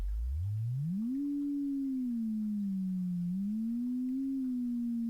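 A pure sine tone from a Max/MSP cycle~ oscillator, gliding upward from low pitch and then holding steady with a slight wavering drift, clean and steady with no talk.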